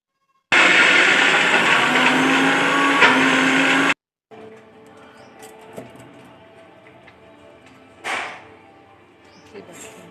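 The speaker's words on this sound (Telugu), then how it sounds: "నీళ్ళు లేకుండా పప్పు వేసుకొని వడల కోసము మిక్సీ పట్టుకున్నానండి" A kitchen mixer grinder grinds soaked lentils without water into a thick, coarse batter for masala vada, a loud steady whirring burst of about three seconds, then stopping, followed by faint kitchen clatter.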